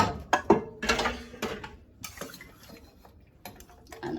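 Chunks of Jamaican cowfoot dropped and scraped into a metal cooking pot, a quick run of clanks and clatters with a spoon knocking the rim, close and sharp, no talking.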